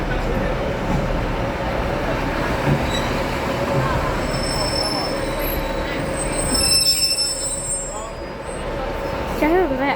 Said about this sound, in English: there's trains coming in